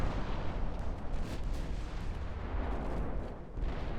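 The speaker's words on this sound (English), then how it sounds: "Five-inch guns actually did a lot once they started opening up." Five-inch naval guns firing in a naval warfare video game set in 1960, a deep rumbling cannonade of overlapping booms and blasts rolling on continuously without pause.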